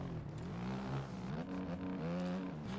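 A Beta dirt bike engine rises and falls steadily as the rider eases on the throttle through a sandy corner at Lommel, a loud, close, continuous motor drone with shifting pitch and no talk.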